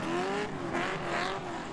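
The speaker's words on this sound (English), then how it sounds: "I hear his engine roaring" A drift car at a competition drift battle roars on its qualifying lap, the engine droning loud and sustained with rising and falling revs and a harsh, rasping edge throughout.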